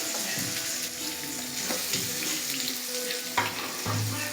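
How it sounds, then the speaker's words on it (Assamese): Meat sizzles steadily in a hot pan, a close, continuous crackling fry with a few small clinks and splashes near the end, no talking. "এয়া ভাজি লওঁ আৰু ৰঙা ৰঙা কৰি কিনে এয়া দি দিওঁ আৰু আমাৰ মাংসখিনি"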